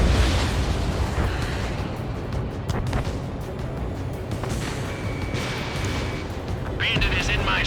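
Ace Combat 7 air combat throws up a continuous loud roar of explosions and gunfire, with jet rumble and booming blasts, while radio voices talk over it.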